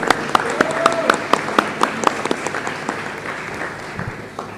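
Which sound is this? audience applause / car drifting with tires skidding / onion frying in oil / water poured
audience applause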